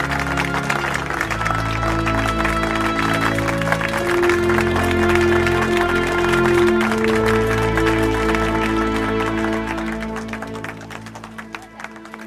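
Audience applause at a stage event, a dense steady roll of clapping from many hands, heard under loud sustained music that fades near the end.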